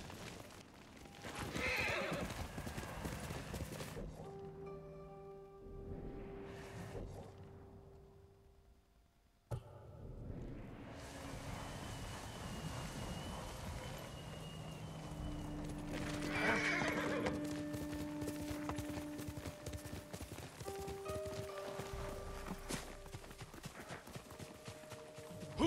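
Horse hooves clip-clopping and repeated neighing in the video game Ghost of Tsushima, steady hoofbeats broken by several whinnies and a brief pause, set against an ambient game soundscape.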